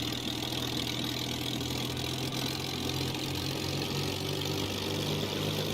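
A simulated Spitfire Mk1A piston engine runs steadily in a flight simulator, a continuous droning rumble with a low, even tone that holds level and shows no clear rise in revs.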